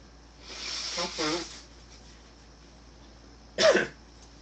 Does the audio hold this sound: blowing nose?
yes